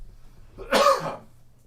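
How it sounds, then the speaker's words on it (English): A single harsh cough, close and fairly loud, with a short rough tail and quiet background around it. "Oh, I got a cough."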